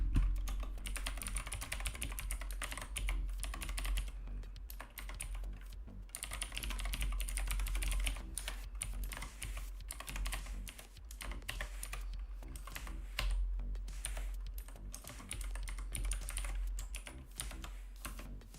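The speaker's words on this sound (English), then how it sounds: "Fine, I will type it in by hand." Hand typing on a computer keyboard, steady clattering keystrokes in uneven bursts running throughout over a low hum, close and continuous with no speech.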